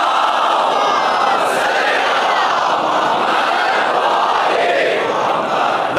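A congregation at a majlis for Imam Husayn recites salawat together aloud, a dense, loud, sustained chorus of many voices filling the whole stretch.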